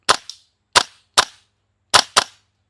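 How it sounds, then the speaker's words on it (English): A Classic Army URGI MK16 gas blowback airsoft rifle firing on semi: five crisp, close snapping shots, some in quick pairs, with brief pauses between. "let's see how many mag fills of BBs we can get out of a single gas fill on semi"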